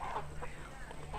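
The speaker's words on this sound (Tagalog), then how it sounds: "May nangingitlog ng manok doon oh." A hen clucks in short, close bursts at a rural provincial campsite, the calls sitting over a constant background hum.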